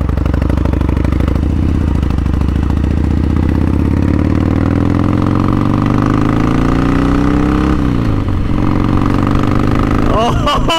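Harley-Davidson Sportster 1200 motorcycle engine rumbling loud and close, its pitch climbing steadily as it revs and pulls away, under a rider's voice.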